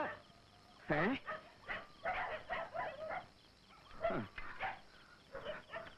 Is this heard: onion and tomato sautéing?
no